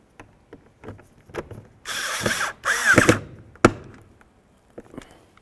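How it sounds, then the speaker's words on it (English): A power driver runs a small screw into the inner door panel of a 2007-2012 Nissan Altima, with two short buzzing bursts close by amid light tapping and clicking handling noises. "We're going to put in this little screw."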